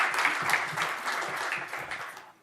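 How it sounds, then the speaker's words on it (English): A conference audience gives a congressman a round of applause, full steady clapping from many hands that slowly tapers off toward the end. "Please give him a round of applause."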